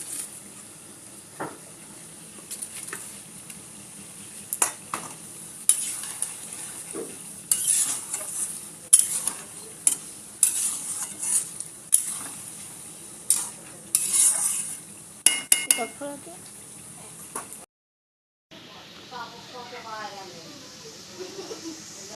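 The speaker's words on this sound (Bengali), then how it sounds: "ভেজে রাখা আলুগুলো দিয়ে দিলাম।" Fried potatoes are stirred in a frying pan, a soft sizzle under repeated scraping and clinking of a spatula against the pan, with someone speaking over it and a brief pause near the end.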